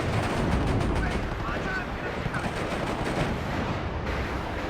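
Dense, continuous rumbling gunfire and distant explosions from the NSVT heavy machine gun in the WARNO battlefield, a steady wash of rapid reports without clear gaps, moderately loud and fairly distant.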